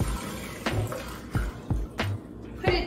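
Arugula and sprouts are rinsed under running water in a salad spinner basket, a steady close splash and flow broken by several louder knocks and sloshes as the greens and basket are moved.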